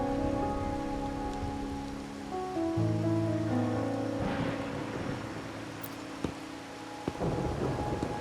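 Steady rain and rolling thunder fill a scene in the video game Wuthering Waves, with a sustained musical drone beneath and deep rumbles swelling midway.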